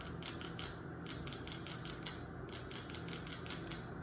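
Rapid, rhythmic scraping and clicking in short bursts from a homemade squirrel call imitating a squirrel gnawing, with no voices.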